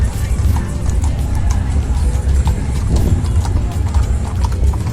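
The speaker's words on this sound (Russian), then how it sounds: "Лошади." Horse hooves clip-clop steadily over a dense festive crowd at a fair in Andalusia, Spain, loud and close with continuous background chatter and no clear single voice.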